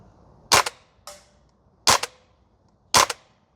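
A VFC UMP45 airsoft gun fires on an outdoor range with three sharp, close cracks about a second apart, plus one softer snap between the first two shots.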